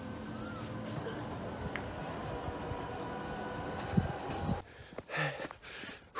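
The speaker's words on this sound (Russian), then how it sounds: "О, поезд едет." A train rolls past outdoors near Calella on the Barcelona coast, a steady rumbling clatter of wheels that holds for several seconds, then drops away into fainter ambient sound with brief footsteps or movement near the end.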